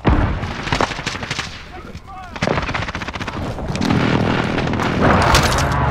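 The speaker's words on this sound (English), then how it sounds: "Enemy precision airstrike." Heavy gunfire and booming blasts from a Call of Duty Modern Warfare battle, with an enemy precision airstrike, rumble densely and continuously, building louder toward the end while voices speak over the chaos.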